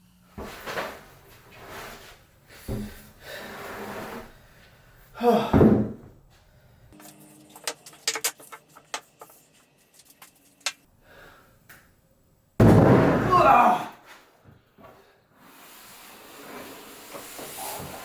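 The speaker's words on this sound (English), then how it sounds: "I just wanted to get some of the dried up squeeze out and chisel it away." A chisel scrapes dried glue squeeze-out from the underside of a wooden dining table in scattered scratchy strokes and taps, with two louder rasping bursts, in a quiet workshop.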